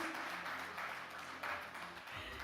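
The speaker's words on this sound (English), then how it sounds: "An extra huge round of applause because I missed him." Applause from the audience at a banking and finance annual meeting, a dense, steady wash of many hands clapping that runs throughout, with faint voices underneath.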